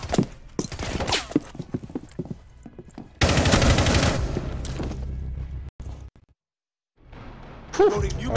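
Rapid bursts of gunfire from shooting in a tactical team video game, loud and dense for a few seconds amid game effects, with voices talking over parts of it.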